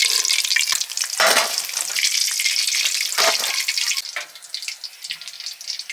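Bhetki fish frying in hot oil, a loud crackling sizzle close by with bursts of spattering that ease into a quieter hiss toward the end.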